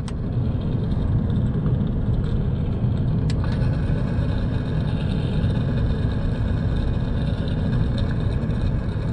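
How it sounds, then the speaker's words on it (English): Steady, loud low-pitched rumble and drone of a car chassis while driving, from a bad front wheel bearing, continuous and unbroken with a couple of faint ticks. "We'll use this to listen to what we could hear from underneath the chassis, and then we'll be able to figure out which wheel bearing it is that's causing the problem"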